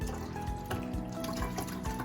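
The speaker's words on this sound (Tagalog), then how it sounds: "So lagyan ng tubig." Water pours and splashes steadily into the 3-liter tank of a Black+Decker HM3000 air humidifier, a close continuous gurgling stream without any talk.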